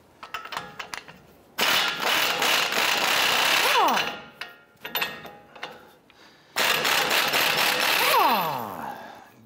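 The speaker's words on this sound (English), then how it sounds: "Using a 21 millimeter socket, we're gonna go ahead and loosen our outer tie rod end nut" A tool drives a 21 mm socket to loosen the outer tie rod end nut on a 2011-2018 Ram 1500, giving short clicks, then two long loud whirring runs with a rising whine, separated by brief ratcheting sounds.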